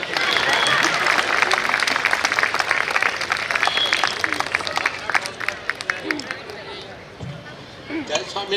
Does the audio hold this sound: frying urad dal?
no